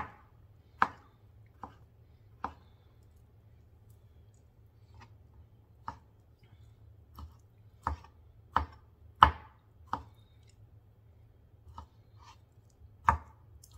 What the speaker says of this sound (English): I've got olives, and I'm going to cut them in half